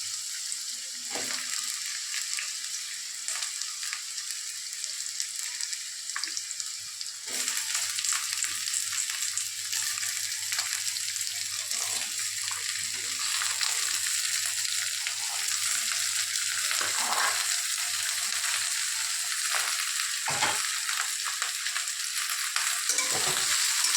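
Vegetables fry and get turned in a pan, with a soft steady sizzle broken by repeated scraping and clattering stirs. The sound grows a little louder partway through and continues without talk.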